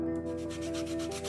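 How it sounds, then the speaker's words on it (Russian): Sandpaper rubbing over a wooden toy in the Toy Tinker Simulator video game, a steady scratchy rasp with quick back-and-forth strokes, alone over a faint tonal background hum. "Сейчас по-быстренькому тут наждачкой все ототрем."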